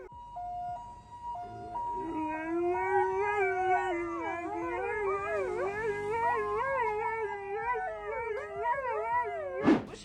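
Two dogs howling in rising and falling wails that mimic a passing ambulance siren, with the siren's steady tone audible at the start, then layered sustained howls close by, loud and continuous.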